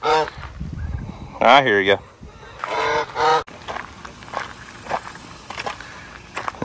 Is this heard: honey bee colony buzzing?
no